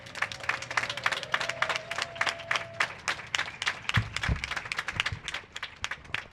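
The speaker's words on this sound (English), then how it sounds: "Everyone, please give a round of applause for Elizabeth Melas." An outdoor audience claps steadily and continuously at a fountain reopening ceremony, with a low rumble of crowd noise underneath.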